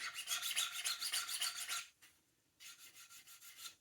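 A fingernail scrapes rapidly across the ridged layer lines of 3D-printed plastic, producing a close, rhythmic raspy buzz in two bursts separated by a short pause.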